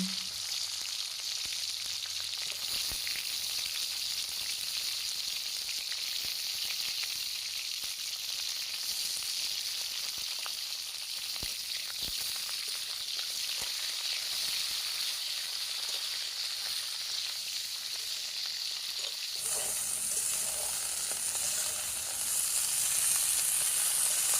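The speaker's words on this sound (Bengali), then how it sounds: "ফুলগুলো এখন আমি ভেজে নেব ফুলকপিগুলো একটু লাল লাল করে কিন্তু ভেজে নিতে হবে" Cauliflower florets frying in oil for a Bengali rohu fish curry, a steady close sizzle with scattered clicks of stirring, growing a little brighter and hissier toward the end, with no voice.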